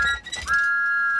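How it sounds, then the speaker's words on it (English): A cartoon steam engine gives a single bright whistle that starts with a short rise and then holds steady and loud to the end, after a brief muffled rumble. "Thomas was so excited, he blew his whistle louder than ever."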